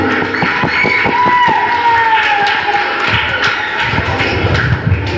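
An audience at a VBS cultural event claps in thanks to a student group. A steady patter of many hands is mixed with thumps and tones, and a faint voice sits beneath the crowd noise.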